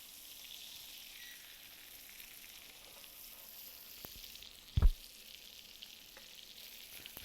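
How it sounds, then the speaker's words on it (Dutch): Beef tenderloin searing in a pan with a knob of butter, a soft, even sizzle throughout and one sharp clatter near the end, close by with no talk. "als het vlees aan beide kanten mooi bruin is, doe ik een klontje boter erbij"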